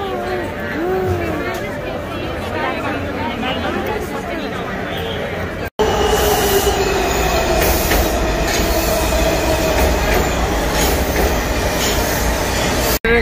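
A Washington DC metro train riding from Fairfax, Virginia, its loud steady rumble and rattle filling the carriage, with wheel squeal and a sudden jump in loudness partway through, while people talk nearby.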